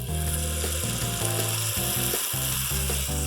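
Pancakes sizzle steadily on two griddles set to 350 degrees and greased with bacon grease, a close, continuous frying hiss with a low mechanical hum running underneath.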